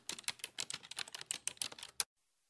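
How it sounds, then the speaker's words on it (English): Fast, uneven typing on a computer keyboard: a close burst of crisp key clicks for about two seconds, then silence. "Type in a brief little message"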